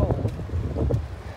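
Wind gusting during a snowstorm on Mount Laguna along the Pacific Crest Trail, a close, low buffeting rumble hitting the microphone in uneven puffs.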